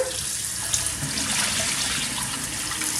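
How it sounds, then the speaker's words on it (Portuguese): A faucet runs continuously as freshly dyed shibori fabric for a table runner is rinsed under the stream to wash out excess dye, a close, steady hiss with faint splashing throughout. "tem que enxaguar até sair todo o excesso"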